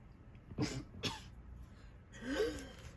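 Three separate harsh bursts of coughing or throat clearing, two close together and a longer rougher one after a pause, fairly near over quiet room noise.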